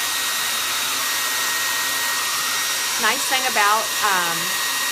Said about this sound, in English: I'm going to hit this all with a quick blow dry